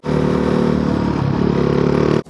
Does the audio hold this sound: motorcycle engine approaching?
yes